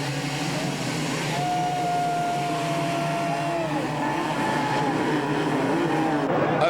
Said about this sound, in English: They rev the engines, waiting for the gates to drop for Moto number 1 to be underway.